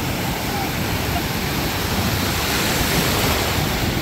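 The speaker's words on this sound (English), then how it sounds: "I'm gonna shut up and let y'all enjoy the sound of the waves" Ocean surf at Panama City Beach rushes in a constant, dense wash of breaking waves. The roar is loud and close and continues without a break, with wind buffeting the microphone.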